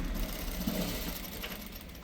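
A sewing machine stitches a shirt collar, giving a continuous close mechanical whir with a fine rapid needle rhythm, heard alone for about two seconds.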